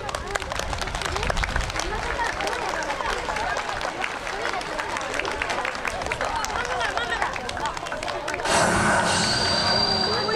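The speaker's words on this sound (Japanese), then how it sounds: "皆様大きな拍手でお迎えください" A large crowd applauds as the Sakai Blazers volleyball team enters at a send-off rally, dense steady clapping with crowd murmur throughout, growing brighter and louder near the end.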